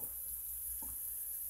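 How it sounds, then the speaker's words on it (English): Water runs steadily from a tap into a cooking pan, a low continuous pour heard alone and close by while soup is prepared in a home kitchen. "we're going to put 2 cups of water in the pan"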